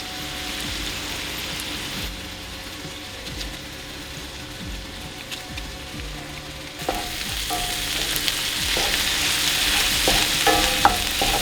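Fresh garlic and shallots fry in butter with a soft, continuous sizzle broken by the scrape of stirring, which grows louder and busier partway through, up close with no voices.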